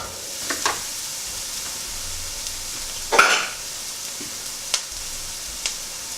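Biryani is stirred in a frying pan over a steady sizzle, with a brief scraping burst in the middle and a few light spoon knocks.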